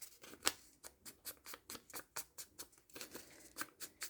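Paper page of a book being torn by hand in a steady run of short ripping bursts, about a dozen quick pulls, close and fairly quiet, with no talk.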